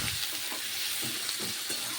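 Sliced onions sizzle steadily in hot oil for chicken biryani, with soft scraping stir strokes recurring under the constant frying hiss.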